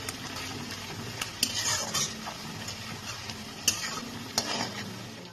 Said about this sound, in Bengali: পেঁয়াজটাকে আমি লাল করে ভেজে নিচ্ছি